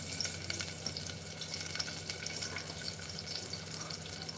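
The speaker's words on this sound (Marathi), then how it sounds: "या पहा, या लसणाच्या पाकळ्या मी यात टाकते." Garlic cloves dropped into hot oil give a soft, continuous sizzle and crackle of frying, fairly faint and close, with no talk over it.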